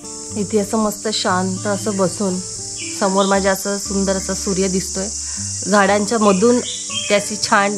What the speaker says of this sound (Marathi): मध्येच एखादा किडा कुठला तरी ओरडतोय.